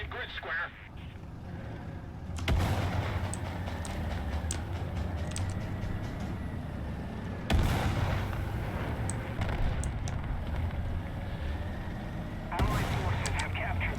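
Artillery barrage in the tank game World of Tanks: three heavy booming impacts land a few seconds apart, each followed by a dense rumbling roar of battlefield noise, with a radio-style voice speaking over it.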